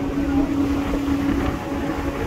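Steady broadband rumble of strong wind buffeting the microphone, constant and loud throughout, with a low engine-like hum beneath and no talking.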